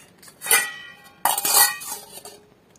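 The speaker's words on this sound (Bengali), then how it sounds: "আমি একটুখানি ঢেকে রেখে দিই" Dishes of cooked food being covered with lids, two distinct clattering metallic clinks of pots and lids about a second apart, close and fairly loud, with no speech.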